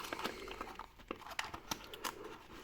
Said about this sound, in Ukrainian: Комплектація в ножа мінімальна, тобто буквально коробка, візитна карточка, пакет і ніж.